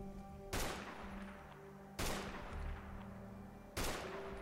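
Three loud gunshots from the player's gun in the Fallout 4 video game, each a sharp blast followed by a lingering echo, spaced about a second and a half apart over a steady game hum.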